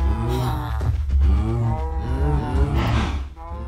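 Cows in the video game Minecraft moo over and over at close range, loud low drawn-out lowing calls overlapping one another with no talk.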